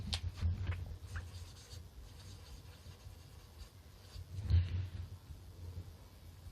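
Chalk or marker strokes on a board during a chemistry lecture on molar volume, a steady run of soft scratching with two louder bursts near the start and about two-thirds through, heard alone at close range.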